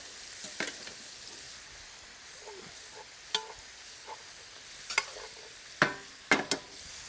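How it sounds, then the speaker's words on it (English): Meat and vegetables for a quick stew sizzle softly in a pan, a faint steady crackle broken by scattered sharp clinks and scrapes of stirring, with no one talking. "I'm going to add my meat directly to the vegetable."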